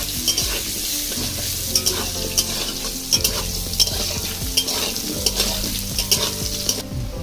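Bay leaf frying in hot oil in a pan while being stirred, giving a steady close sizzle with repeated scraping and clinking strokes of a utensil throughout, with no voices.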